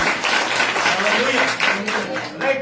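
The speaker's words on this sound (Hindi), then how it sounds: "ताली बजा के परमेश्वर को धन्यवाद।" A church congregation at an Easter resurrection-day service claps together in thanks to God, dense continuous applause filling the room, fairly loud and close.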